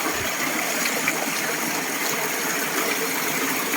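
Waterfalls inside a cave pour in a steady, even hiss and rumble of falling water, moderately distant and unbroken, with no voices.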